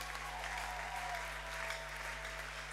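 A church congregation claps in steady, dense applause that fills the space evenly from start to finish, with a faint voice underneath.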